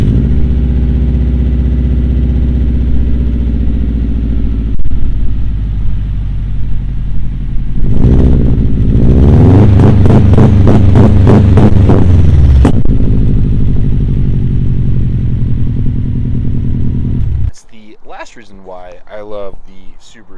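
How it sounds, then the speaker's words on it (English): A 2006 Subaru STI flat-four with unequal-length headers idles with a loud, close, lumpy rumble and swells in a brief rev midway. A voice is heard briefly at the end. "Everyone loves the Subi rumble"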